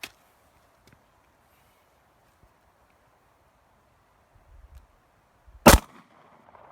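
A single sharp, loud report from a Glock 23 pistol rings out near the end, after mostly quiet background with faint shuffling.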